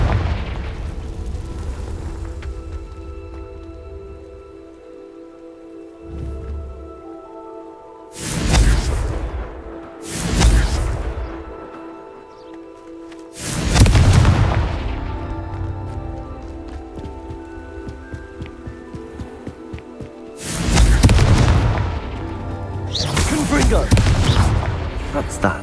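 Confringo spell explosions in the video game Hogwarts Legacy, heard as several heavy booms spaced a few seconds apart, each rumbling and fading over a continuous background music bed.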